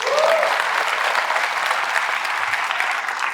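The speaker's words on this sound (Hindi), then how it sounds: "ताली बजाओ." An audience claps loudly and continuously, a thick, even roar of applause filling the whole stretch with no speech over it.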